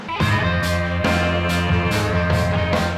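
Heavy, booming snare hits crack about twice a second in a steady, slow beat over a thick sustained bed of other instruments, loud and roomy.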